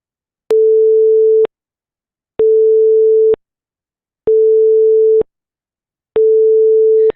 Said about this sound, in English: Let me play you a cosine, and then a shifted cosine, and then a sine wave